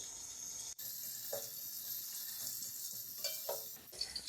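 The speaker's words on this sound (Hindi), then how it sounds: "1 कप हम ऑयल लेंगे। 3 अदद हम प्याज लेंगे। प्याज हम ब्राउन कर लेंगे।" Onions frying in a cup of oil for beef pulao give a steady soft sizzle, faint and close, with a brief break and a few clinks of stirring, no talking.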